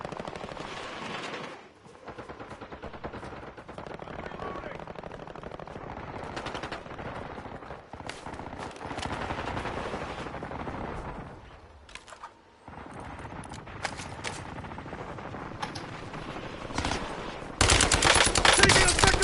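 Gunfire in the video game Warzone: repeated bursts of automatic fire and single shots at varying distances, with short lulls, ending in a loud close burst.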